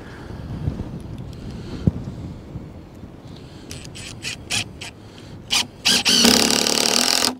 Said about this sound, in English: Gonna throw a couple of screws in there.